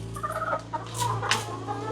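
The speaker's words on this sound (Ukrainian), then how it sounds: "Ну, зазвичай нормально вони тут несуться. І скільки в тебе тут курочок?" Hens in a backyard coop where about twenty laying hens and a rooster are kept, clucking and murmuring close by in a steady, overlapping babble with a couple of louder calls rising above it.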